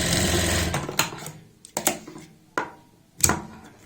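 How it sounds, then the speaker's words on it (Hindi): A sewing machine runs a straight seam along a three-quarter-inch buckram border while a neckline is stitched. A steady run opens the clip, then short separate bursts of stitching follow with pauses between them. No talk. "इसमें हम बिल्कुल सीधी सिलाई लगाएं।"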